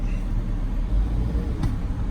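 A pickup truck's engine idles low and steady while it backs up in reverse, a near, continuous rumble with a brief faint click partway through.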